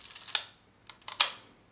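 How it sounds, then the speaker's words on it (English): Lever wind advancing the film in a Kodak Retinette IB camera, a few short close mechanical clicks and ratchet sounds in quick bursts, with quiet gaps between. "Advance the film again."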